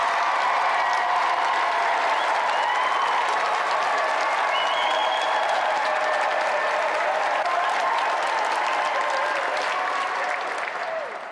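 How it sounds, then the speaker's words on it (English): Sustained applause from a large audience, steady and loud throughout, with the clapping tapering slightly at the very end. "let's give another round of applause for our two special guests tonight, Jet and Shadow!"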